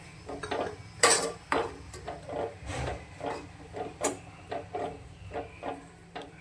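A spoon stirs a spice mixture with curry leaves in a pot, making repeated close scraping clinks and knocks against the metal in an uneven, steady rhythm.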